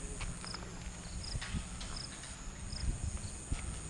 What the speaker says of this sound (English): The grazing horses